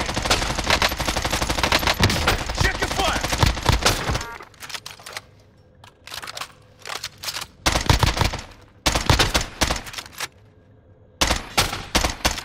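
Video game gunfire rattles in long, dense automatic bursts that are loud and close, broken by short pauses and then renewed volleys of rapid shots.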